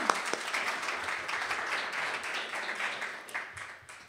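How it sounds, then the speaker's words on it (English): Audience applause for award recipients at a women's awards ceremony, a steady wash of clapping from a crowd that holds at an even level for several seconds before starting to thin out. "So a round of applause for all the awardees."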